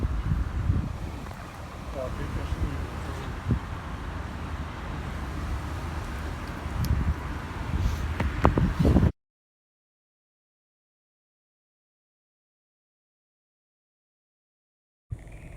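Wind blows hard outdoors and buffets the microphone in a continuous low roar with some gusts, then cuts to silence for several seconds before a brief burst returns.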